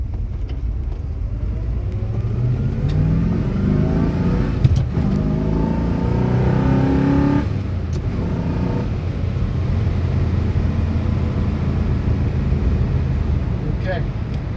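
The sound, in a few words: 1966 Corvette Roadster engine accelerating while driving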